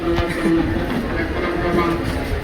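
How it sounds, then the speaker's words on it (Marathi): Low rumbling of a train on platform one heading into the yard, rolling along with a faint steady hum and light clatter, moderately close, continuous throughout. "एक नंबरवरती ट्रेन चालले यार्डमध्ये जाशील आतमध्ये"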